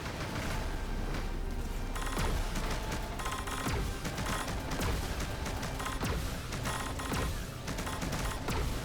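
Rapid, dense bursts of laser fire from Panzer Dragoon Remake on Nintendo Switch crackle continuously amid explosive booms and clatter, loud and busy throughout with no voices.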